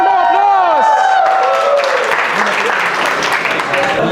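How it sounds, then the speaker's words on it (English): A conference audience gives a loud, sustained round of applause after a closing keynote at a cloud community day, with a voice speaking over the start of the clapping. "Please give a huge round of applause."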